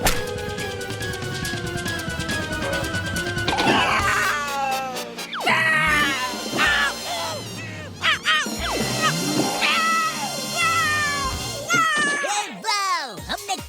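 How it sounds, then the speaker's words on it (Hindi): A cartoon tomcat yowls and screeches while being chased off in a 3D animated kids' show, with wailing cries sweeping up and down over busy music and effects, and voices heard alongside. "वाह! हमने कालिया बिल्ला को भगा दिया यार"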